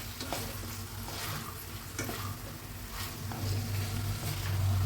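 Kashmiri potatoes for aloor dum frying in a pan, a dense steady sizzle with repeated scraping strokes of a spoon stirring, growing slightly louder toward the end.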